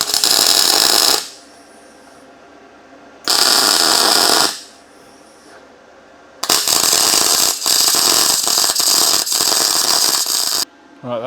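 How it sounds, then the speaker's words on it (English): A welder makes test welds on scrap metal before work in a 4WD engine bay, giving loud crackling bursts of a second or two with quiet gaps, then a longer sputtering run. "I'll set up the welder on that"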